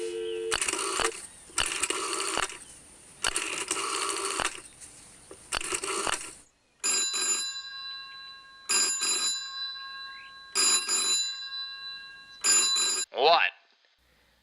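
A telephone bell rings in repeated loud bursts with short gaps, followed by brief tonal bursts and a voice speaking near the end.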